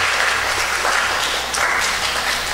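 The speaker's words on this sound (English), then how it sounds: "So give yourselves a nice round of applause." An audience applauds at a school arts and culture festival preliminary in San Fernando, a brisk, continuous burst of many hands clapping close by, with no talking over it.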